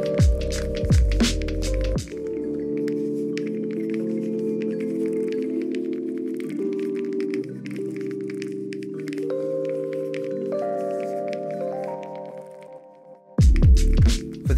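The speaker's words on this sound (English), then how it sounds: "For the first step of polishing, we're using a light compound with an aggressive pad to remove many of the deep scratches" A polishing machine works a Toyota Supra's paint with light compound on an aggressive pad, giving a steady, continuous hum with shifting pitch. Sharper, louder bursts come at the start and end.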